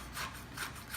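A knife sawing through the tough top of an artichoke, three or four quiet rasping strokes in quick succession, faint and close with no voice.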